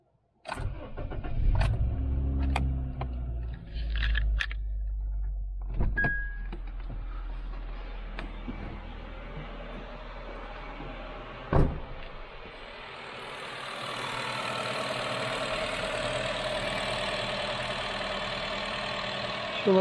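A 2009 Honda Jazz (Fit) engine cranks and fires up right after a spark plug change, with a few clicks and a loud starting burst before it settles into a steady, even idle close by.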